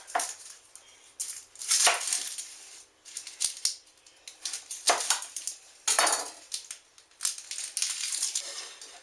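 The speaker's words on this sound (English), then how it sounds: "We're going to cut our onion in half." A knife slices an onion in half on a cutting board during kitchen prep, making a series of close, crisp cuts and taps against the board with short pauses between them.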